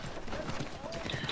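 Horse hooves clip-clop quickly in Assassin's Creed 3, a busy rhythmic clatter of riding steps mixed with game sounds and a voice talking over it.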